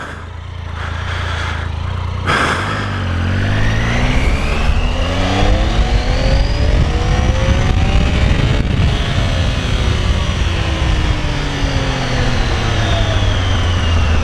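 A motorcycle engine roars up close and revs with rising and falling pitch while the bike rides down a rough, rocky path, loud and continuous throughout with no talking.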